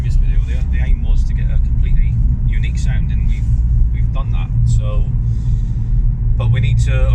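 A Ford Escort MK3 RS fitted with a Simpson race exhaust drives along the road. The engine gives a loud, steady rumbling drone from inside the cabin, and people talk over it the whole time.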